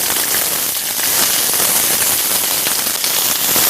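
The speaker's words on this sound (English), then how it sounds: "Till it sizzle nicely." Steady, dense crackling sizzle of vegetable filling for stuffed butternut squash frying in a hot pan, loud and close, continuing evenly throughout with no talking.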